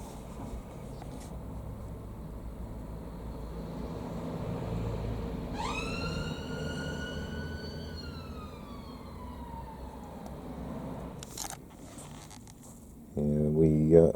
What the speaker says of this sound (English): The ambulance is coming back.